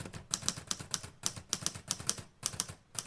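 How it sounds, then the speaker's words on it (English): Fingers type on a keyboard up close, quick clattering bursts of key clicks in an uneven rhythm with brief pauses, and no talking. "I'm just going to finish typing up these notes"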